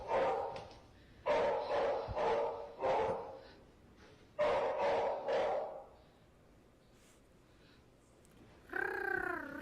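A dog barks in several sharp bursts grouped in clusters, fairly loud and close, with quieter gaps between and a higher yipping whine at the end.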